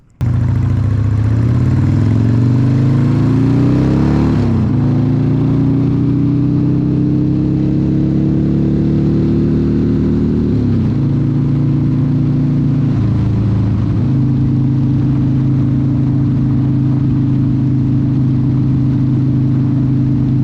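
A 2006 Triumph T100 Bonneville cafe racer motorcycle engine starts and runs loud and close, revving up then settling into a steady throbbing idle with pitch shifts as it pulls away.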